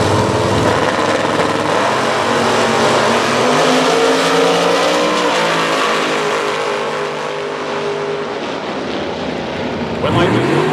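Drag racing cars, including a 1967 Camaro, launch in Top Bulb eliminations, with loud continuous engine roar that rises and shifts in pitch throughout, under announcer commentary.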